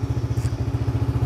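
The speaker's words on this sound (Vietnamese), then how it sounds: "Đây, nổ máy luôn nè." A Honda Super Dream 110 motorcycle with a roughly 110cc engine idles with a steady, rapid, even thumping pulse, close and loud, with no talking.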